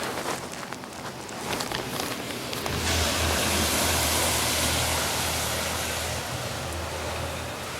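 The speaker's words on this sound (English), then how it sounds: "the truck just passed, utility truck just passed by" An Oncor utility truck passes on a street during a storm and power outage, its broad rushing road noise swelling up midway and holding loud and steady to the end.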